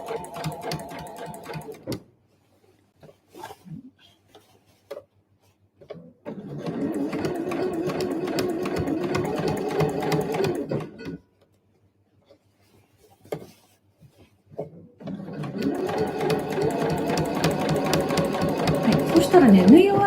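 A sewing machine stitches a convenience-store-style eco bag in bursts of rapid mechanical whirring, three runs of several seconds each separated by quiet pauses, with a person talking between runs.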